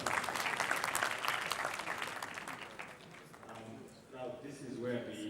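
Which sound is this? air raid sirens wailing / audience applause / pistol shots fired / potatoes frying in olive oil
audience applause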